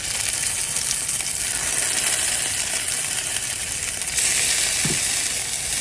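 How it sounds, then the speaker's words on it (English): Potatoes frying in a hot skillet give a loud, steady hiss of sizzling oil that swells slightly toward the end, with a brief low knock near the close. "once your skillet is good and hot, you wanna go ahead and put your potatoes in"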